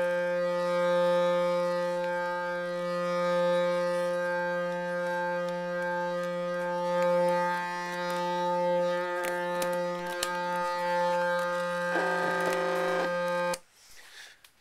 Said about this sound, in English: if you play back a tone and move the machine around,